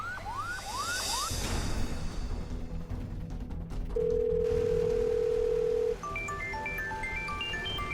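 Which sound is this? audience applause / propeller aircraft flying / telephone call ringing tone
telephone call ringing tone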